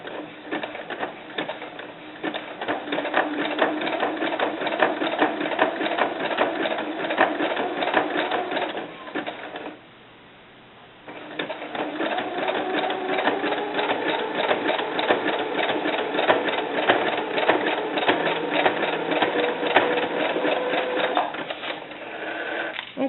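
A sewing machine stitches fabric for a doll bra in fast, steady whirring runs, pausing briefly midway before resuming at a similar pace; close and loud with no talking.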